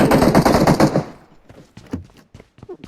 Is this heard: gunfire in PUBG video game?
yes